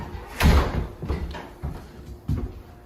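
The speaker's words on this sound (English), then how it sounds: "You hear that door, right?" A door closes with a dull thud inside a house, followed by a few softer knocks and rattles, heard fairly near with no talking.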